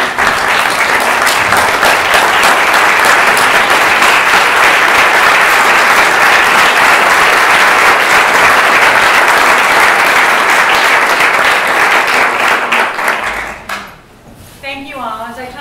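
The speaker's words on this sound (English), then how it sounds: "I'd like to give a round of applause." Sustained, loud applause from a standing audience at a veterans clinic announcement, steady clapping for about fourteen seconds before it fades and a voice begins speaking.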